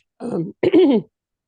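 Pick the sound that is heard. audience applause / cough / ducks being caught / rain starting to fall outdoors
cough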